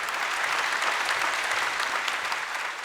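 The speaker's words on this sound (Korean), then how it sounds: "여러분 다시 한번 큰 박수 부탁드립니다." A large audience at a panel discussion on spatial display technology gives the speakers sustained, dense applause, an even wash of many hands clapping without a break.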